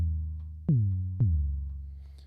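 An 808 bass patch in Ableton Operator with a fully positive pitch envelope, two deep booming notes whose pitch swoops down sharply from each attack before sustaining low and fading, alone.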